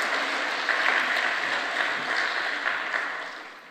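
A church congregation at a fasting prayer retreat claps together in a sustained, even burst of applause, moderately loud and reverberant, tapering slightly toward the close.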